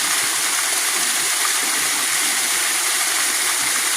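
A natural waterfall feeding a stream rushes steadily outdoors, a continuous broad hiss of falling and flowing water with no other sounds standing out.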